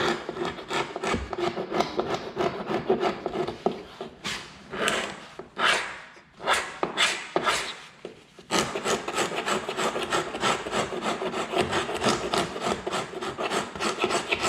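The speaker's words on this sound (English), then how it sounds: "demonstrate how to professionally scrape and prep a corner" Hand scraper dragged over a hardwood floor corner during refinishing, with dense, rapid scraping strokes, a slower run of separate, louder pulls in the middle, then steady fast scraping again, close up with no talking.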